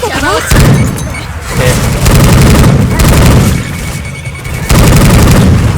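Loud bursts of rapid gunfire and booming explosions from the video game Left 4 Dead 2 come in repeated waves, with short gaps between them and voices talking over the noise.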